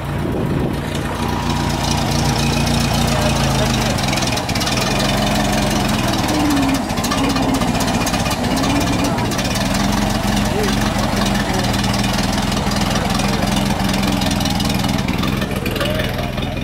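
An MG car at a town car show during the Henry Lawson Festival, its engine running steadily with a low rumble and slight rises and falls as gears change, under continuous outdoor crowd and street noise with people talking nearby.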